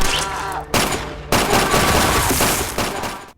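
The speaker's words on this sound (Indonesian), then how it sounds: "secara mengejutkan Jang Ho dengan emosi berdiri menembaki Han." Rapid bursts of gunfire in a film scene crackle loudly and continuously, with sharp repeated shots and a dense, chaotic barrage filling the clip.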